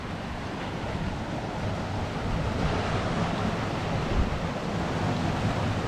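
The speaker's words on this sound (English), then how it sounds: "The water flows through, but look, they can control the flow of it." Water rushes through dam sluice gates on a Scottish loch as a steady, broadband roar, with wind buffeting the microphone and no voices.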